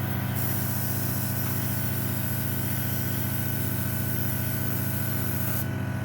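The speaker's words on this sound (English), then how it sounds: "The spray's nice." Airbrush spray painting a test wing from a 1/72 Airfix Short Tucano scale model, a steady continuous hiss with a motor-like hum underneath, close and constant throughout with no talking.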